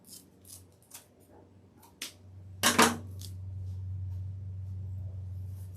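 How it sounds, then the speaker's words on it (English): Scissors snip through a piece of blue deco mesh while a fall pumpkin wreath is being made: a few soft clicks, then one louder crunchy cut, close up, over a low steady hum. "let me just cut a piece of blue"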